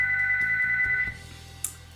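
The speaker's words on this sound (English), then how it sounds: "phone's ringing." A household landline telephone rings with a steady electronic warbling tone for about a second, then cuts off, leaving a low hum and a brief click.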